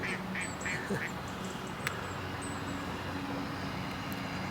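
A duck quacks in a short burst of several calls near the start, heard outdoors over a steady rumble of distant traffic and a passing aircraft.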